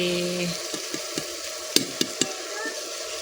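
Cauliflower curry sizzles steadily as it roasts in a pan, punctuated by several light spatula taps and scrapes while it is stirred, close by, with no speech.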